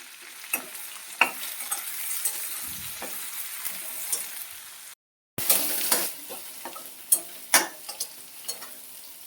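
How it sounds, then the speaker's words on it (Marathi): Onion, garlic and masala sautéing in a pan for a spicy black chicken curry, a steady sizzle broken by sharp scraping stirs, close and loud with a brief drop to silence midway. "व्यवस्थित परतायचा त्याच्यामध्येच कांदा लसूण मसाला"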